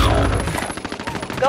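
Call of Duty: Modern Warfare gunfire comes in quick rapid bursts, like automatic weapon fire, dense and close with game effects around it.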